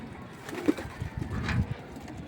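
Pigeons coo softly at close range, a few low murmuring calls over a quiet background.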